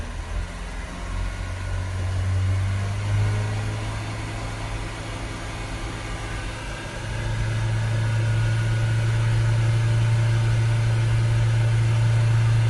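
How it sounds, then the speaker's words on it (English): Diesel engine of a Fiat Talento 1.6 dCi van, idling and then held at raised revs around 3000 RPM, a steady hum that steps up to a louder, higher drone partway through. "Let's hold the revs up to 3000 RPM."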